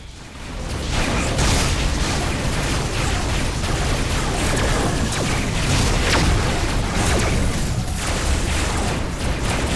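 Missile explosions in the space-combat game Rebel Galaxy, a continuous heavy barrage of booms and rumbling blasts that stays loud and dense throughout after a brief buildup.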